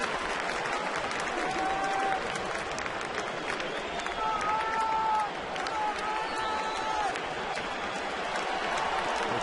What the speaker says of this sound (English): Crowd pulling hard for Ryan Rowland-Smith for a strikeout here